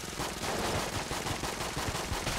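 A portal gun in the video game Mod the Gungeon firing bullets in a dense, continuous rapid-fire stream, fairly loud and unbroken throughout, with no voices.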